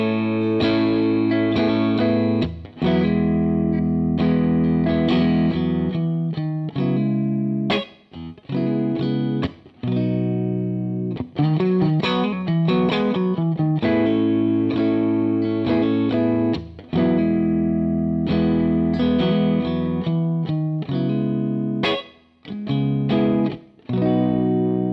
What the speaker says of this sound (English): let's have a listen to the clean sound on the RSA23.